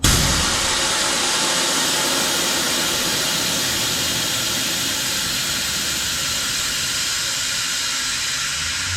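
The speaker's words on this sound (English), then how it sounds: "Now I need to empty the tank to the compressor to take this fitting off" Compressed air blasts out as a train horn kit's compressor tank is emptied, a loud continuous hiss that holds steady for the whole stretch.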